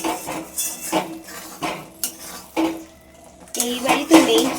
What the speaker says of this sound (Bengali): এইবার চিংড়ি মাছটা দিয়ে হালকা হাতে একটুখানি নাড়াচাড়া দেবো।